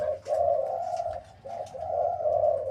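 Decoy dove used for luring wild doves, giving a loud, close series of low, rolling coos in two long phrases with a short pause between.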